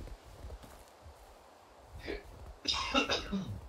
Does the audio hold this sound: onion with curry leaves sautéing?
no